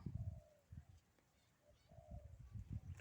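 A spotted dove coos at a cooing contest in a repeated low, soft rhythm of short phrases, faint and somewhat distant, with a voice talking quietly in the background.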